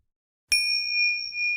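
A single bright bell ding strikes after a moment of silence, then rings on with a clear sustained tone that slowly decays.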